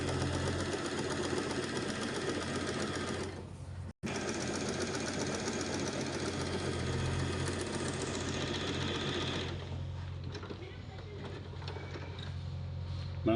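An Usha Janome Allure DLX sewing machine stitches fabric in a steady, fast mechanical whir of needle strokes that slows and quiets near the end, with a faint voice in the background.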